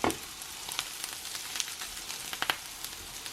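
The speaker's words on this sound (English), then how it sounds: "Then we'll just add in the onion and garlic and get it started softening." Onion and garlic soften in coconut oil and butter with a quiet, even sizzle and scattered soft pops.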